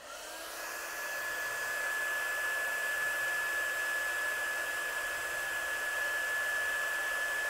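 A heat tool blows hot air to set embossing enamel from underneath, a steady whirring hiss with a thin whine that swells in the first second, then holds constant and fairly close, alone.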